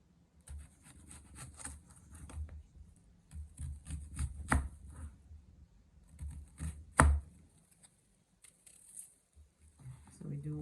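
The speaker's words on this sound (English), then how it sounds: "we're gonna just cut the onions up now" A knife slices onions into rings for a Jamaican escovitch pickle, a red and a white onion, giving repeated firm chops on a board in uneven bursts, with someone talking over parts of it.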